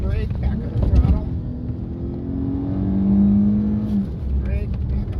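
Car engine in a racing video game revving up and easing off under braking, with a rising and falling engine note running steadily beneath a voice.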